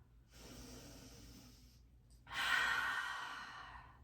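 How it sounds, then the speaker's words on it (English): A person doing breathwork in a yoga flow takes a soft, drawn inhale through the nose, then gives a louder, forceful exhale through the mouth, both close and on their own. "inhale through our nose and forcefully exhale through our mouth"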